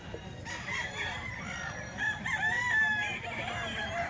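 Chickens kept for sale, among them a rooster, cluck and crow at moderate distance, with a long drawn crow in the middle over soft farmyard background noise and no talking.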